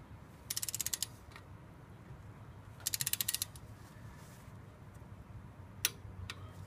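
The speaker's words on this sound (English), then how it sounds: "I've got my torque wrench set to 16 foot-pounds of torque." A torque wrench set to 16 foot-pounds ratchets on the valve cover bolts, giving two quick bursts of close clicking and then a single sharp click near the end over a low background hum.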